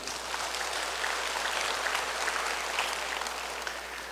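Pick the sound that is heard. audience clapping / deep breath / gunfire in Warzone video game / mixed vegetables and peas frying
audience clapping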